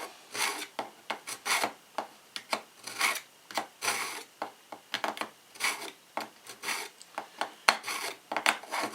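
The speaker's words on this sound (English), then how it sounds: "The tip is the hardest part about sharpening knives." A dull knife tip being sharpened, with a steady run of rasping strokes of metal on a sharpening surface, repeated in a quick uneven rhythm, close and fairly loud, with no talking.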